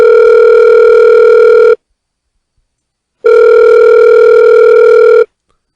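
A telephone ringback tone heard during a phone call, with two loud steady tones about two seconds each separated by a pause of roughly one and a half seconds, and nothing else in the background.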